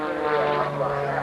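Patty Wagstaff's aerobatic propeller airplane roars steadily overhead at an airshow, a continuous loud engine drone with a strong low tone and no break.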